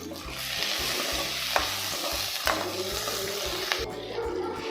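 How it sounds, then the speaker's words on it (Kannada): Red chilli with garlic and coriander leaves frying in a pan gives a steady sizzle, with rhythmic stirring scrapes and a few sharp clinks of the spoon against the metal. "ರೆಡ್ ಚಿಲ್ಲಿ ಎಲ್ಲ ಚೆನ್ನಾಗಿ ಫ್ರೈ ಮಾಡ್ಕೋಬೇಕು"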